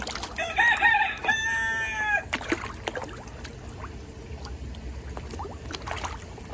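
A rooster crows loudly twice in quick succession near the start, followed by quieter outdoor background at an aquaponics system with scattered clucks and faint splashing.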